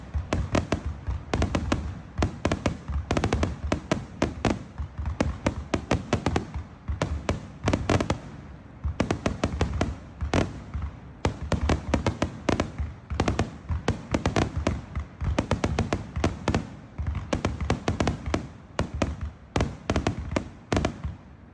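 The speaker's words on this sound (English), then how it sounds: "her video of the fireworks. They were spectacular." Fireworks at a Sun City community celebration boom and crackle in dense, rapid volleys, with sharp loud bursts following one another almost without pause throughout.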